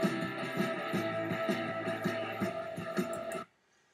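A song plays back in GarageBand, a steady rhythmic band track with a regular beat, loud and even until it cuts off abruptly near the end.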